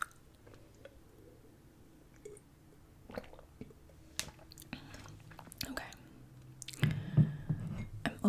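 Gum chewing comes close and wet with soft smacks and squishes, interspersed with quiet whispering, growing louder and more squelchy toward the end.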